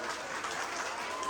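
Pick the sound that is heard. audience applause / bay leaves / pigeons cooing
audience applause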